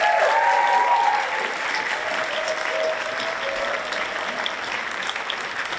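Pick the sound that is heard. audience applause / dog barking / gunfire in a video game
audience applause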